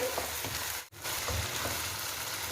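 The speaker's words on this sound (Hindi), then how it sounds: "नमक और लहसुन अदरक के पेस्ट के साथ हम चिकन को फ्राई करेंगे" Chicken frying with salt and ginger-garlic paste for an Afghani chicken karahi gives a close, steady sizzle and crackle, broken only by a brief dropout partway through.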